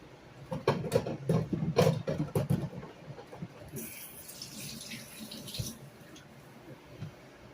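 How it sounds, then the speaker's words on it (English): Water runs from a kitchen tap as hands are washed during salad prep, a steady wash of splashing with brief bursts, fairly close and moderate in level, with some faint background noise. "wash my hands."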